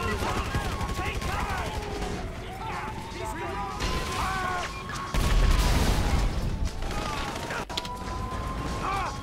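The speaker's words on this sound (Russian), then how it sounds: "Так где по мне стреляют" Gunfire aimed at the player during a shootout with police in GTA V: repeated shots and impacts over a dense, noisy game mix with sirens, a voice talking throughout.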